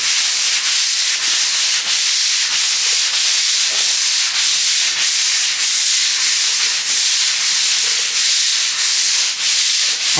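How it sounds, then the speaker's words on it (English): Garage concrete floor being scrubbed with cleaner ahead of an epoxy coating, a steady close, loud rasping brush-stroke rhythm with repeated back-and-forth strokes throughout and no talking. "then we'll start scrubbing"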